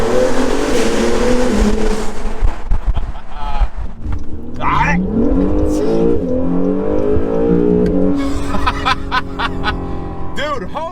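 Acura NSX engine pulling hard through quick gear shifts, rising revs climbing and dropping in steady steps, loud and close, with people talking and laughing over it.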